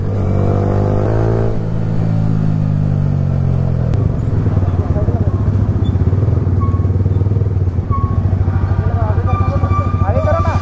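Several motorcycles on a group ride through a mountain valley road in Jharkhand, engines droning loud and close with steady revving throughout, riders talking and shouting over the noise.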